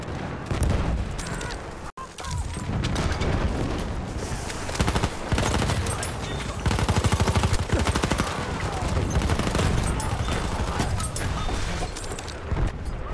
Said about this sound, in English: Oh, the grenades.